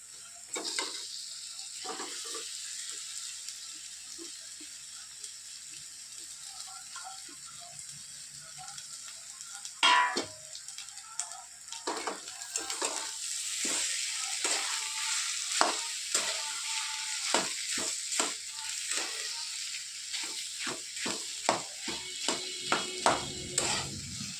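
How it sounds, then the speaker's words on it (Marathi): Potatoes fry in hot oil in a pan with salt and asafoetida, a steady close sizzle that grows louder as a spoon stirs and scrapes the pan in repeated quick strokes. "थोडीशी हिंग आता टाकतो आपण बटाटा"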